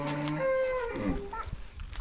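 A single loud, drawn-out cow moo close by, lasting over a second, followed by faint shuffling.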